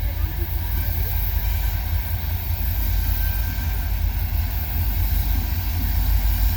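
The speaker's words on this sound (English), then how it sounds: "Check this train out." A Florida Gulf and Atlantic Railway freight train rolls past a park in a college town, a steady, loud low rumble holding throughout without a break.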